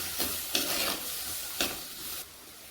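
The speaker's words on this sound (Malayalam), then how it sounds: "മൂന്നാല് പച്ചമുളക് അരിഞ്ഞതും തക്കാളിയും ചേർക്കാം. നല്ലതുപോലെ ഇളക്കാം." Chopped green chillies and tomato sizzle in a pan for a Kerala-style cauliflower curry, with three or four quick scraping stirs over soft frying before the sound drops away.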